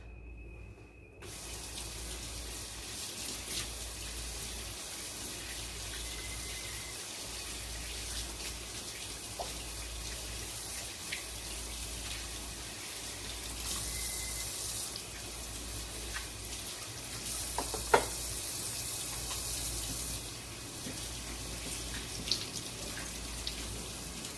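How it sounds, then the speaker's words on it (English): Kitchen tap running steadily while hands are washed, a continuous close hiss of water with small splashes and clinks throughout. "let me wash my hands."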